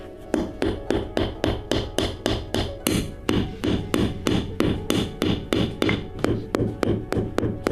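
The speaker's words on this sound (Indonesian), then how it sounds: "Orang-orang di sini bahkan dapat menggunakan buah-buahan beku sebagai palu jika mereka memerlukannya" A frozen banana is used as a hammer in the extreme −55 °C cold of Yakutsk, striking hard in a fast, even rhythm of sharp knocks, about two blows per second, close and loud.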